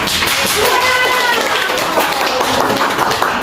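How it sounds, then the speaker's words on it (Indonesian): A Grade 5 maths class claps together for a classmate, a brisk, loud, continuous patter of many hands filling the room, with children's voices faintly mixed in. "Tepuk tangan dulu untuk Hans"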